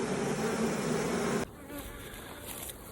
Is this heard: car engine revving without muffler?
no